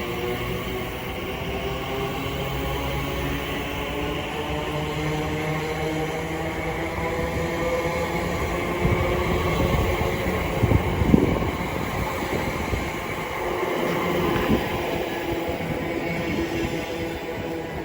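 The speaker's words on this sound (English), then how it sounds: "Incoming now 7 minutes late will be a terminating Elizabeth line" A late-running Elizabeth line train pulls into Shenfield station, a steady rumbling roar with a mechanical hum and a few squeals and clanks as it draws near, with no voices.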